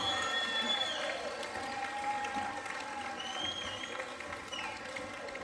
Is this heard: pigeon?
no